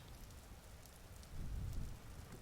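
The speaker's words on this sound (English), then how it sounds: "Oh, it's raining." Rain falling in the survival video game Vintage Story, a soft, steady hiss of drops with a low rumbling swell partway through, quiet and continuous with no talking.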